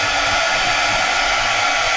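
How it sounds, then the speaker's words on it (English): A heat gun being warmed up for paper crafting blows a steady, loud, broad hiss of air that holds evenly without a break for two seconds, with no voices. "get your heat gun nice and hot."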